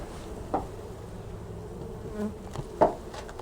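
Honey bees buzz around a beehive in a steady, close drone that holds throughout, broken by a couple of short knocks, with no talking.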